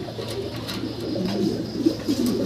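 Pigeons coo in a low, steady murmur at a breeder's loft, several birds overlapping continuously with soft rolling calls close by and no talk over them.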